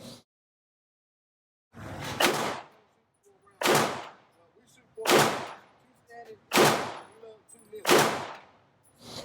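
Five sharp Glock 19 pistol shots at an indoor-style shooting range from 21 feet, evenly spaced about a second and a half apart, each a loud close crack with a short ringing tail, after a silent opening.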